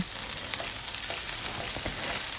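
Onion frying in a little oil in a pan, ahead of prawns for fried rice: a steady, even sizzle with faint crackles throughout, fairly close and with no voices.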